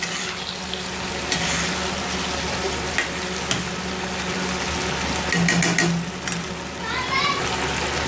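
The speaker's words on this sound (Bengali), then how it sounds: "এবার দেখো যে পনিরগুলো আমি ভেজে রেখেছিলাম সেইগুলো এবার এর মধ্যে দিয়ে দিলাম, দিয়ে ভালো করে নাড়াচাড়া করে নেব।" Fried paneer stirred through sauce in a hot pan for chilli paneer, with steady sizzling and frying, scraping spatula strokes, and children's voices and background chatter running underneath throughout.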